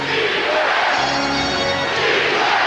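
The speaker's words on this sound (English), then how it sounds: "And a foul is called. The crowd reacts." A basketball arena crowd during a 2002 Western Conference semifinal between the Spurs and Lakers roars steadily after a foul call, a broad continuous wash of voices with no clear breaks.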